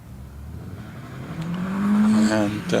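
A Porsche 944 race car launches off the start line at the Harewood hillclimb, its engine rising quickly in pitch as it accelerates away, loud and close, with a commentator's voice partly over it.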